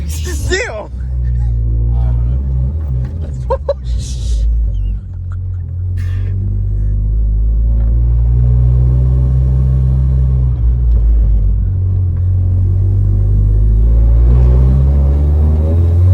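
Engine of a tuned eighth-generation Honda Civic Si rumbling loudly up close, its pitch rising steadily as the throttle opens, with people talking over it.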